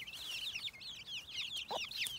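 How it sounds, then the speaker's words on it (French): Young chicks peep and cluck in quick, chirpy bursts while foraging outdoors, a steady overlapping chatter close by with one lower call near the end. "Ça y est, tous les poussins sont réunis."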